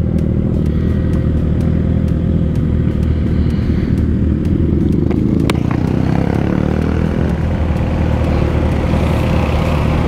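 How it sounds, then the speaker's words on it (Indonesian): Suzuki GSX-R600 sport motorcycle engine heard while riding, a steady loud drone with wind rumble throughout, rising briefly in pitch mid-ride with a sharp click, no talk over it. "Cuma sayangnya dibawa pelan tuh berebut banget motornya"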